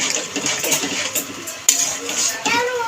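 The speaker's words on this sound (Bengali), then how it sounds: "ভালো করে নেড়ে ছেড়ে মিশিয়ে নিল।" Spiced chickpeas and boiled potatoes are stirred and mixed in a pan, with a spoon scraping and tapping steadily against the metal over a constant sizzling hiss.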